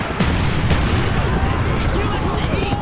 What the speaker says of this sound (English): All I saw was an explosion.